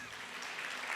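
Audience applause at a religious gathering, a faint, brief wash of clapping without clear individual claps, filling the moment with soft broadband noise.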